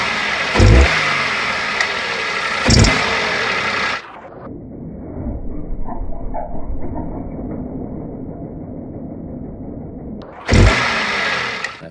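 A Citroen C1 engine runs with a loose, squeaky auxiliary belt, giving a continuous whine over the motor's hum. Loud thumps come near the start and end, with a quieter, muffled stretch in between.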